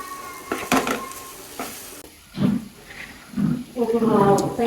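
Raw plantain fries in ghee in a pan, a soft sizzle with a few stirring scrapes, heard beneath a voice talking.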